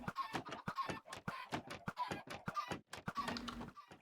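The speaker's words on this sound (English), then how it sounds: "But it's a lot of chicken." Minecraft chickens cluck in a fast, steady run of short clucks, fairly quiet and clustered closely, with a few notes overlapping near the end.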